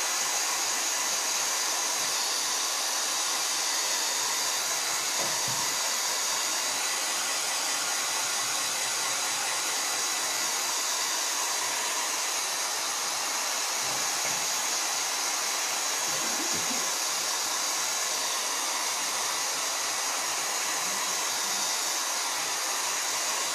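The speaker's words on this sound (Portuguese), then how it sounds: "segunda demão, vou secar novamente." A hair dryer blows steadily and continuously to dry a second coat of paint on a country primitive stencil painting, a constant broadband whoosh with no talk over it.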